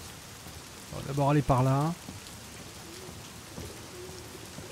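Rain falls steadily in a courtyard in the video game The Medium, a soft constant patter running in the background while someone speaks briefly over it.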